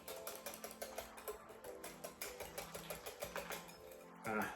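A whisk beats cake batter tinted with gel food colour in a bowl, giving a fast, even run of rhythmic ticking and scraping strokes close by, ending in a louder clatter.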